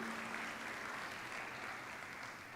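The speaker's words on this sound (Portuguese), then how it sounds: "Posso ouvir um aplauso para Jesus bem forte?" A church congregation gives a loud round of applause for Jesus, a thick, continuous clapping that stays steady and full throughout and tapers only slightly at the end, with no voices over it.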